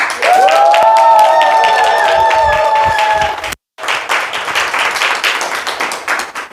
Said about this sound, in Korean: 이렇게 나오실 때 큰 박수 부탁드립니다